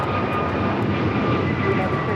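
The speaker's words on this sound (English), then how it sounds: "591 taking off to Washington Reagan National on the A321neo." An American Airlines Airbus A321neo takes off at LAX, its jet engines giving a loud, steady, broadband roar that holds level throughout.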